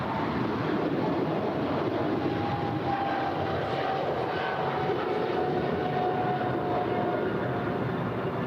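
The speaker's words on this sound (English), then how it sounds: "And there goes Japan Airlines 61 on its way to Tokyo Narita." A Japan Airlines heavy jet taking off from LAX, bound for Tokyo Narita, gives a steady, loud engine roar with a faint whining tone, sustained evenly throughout.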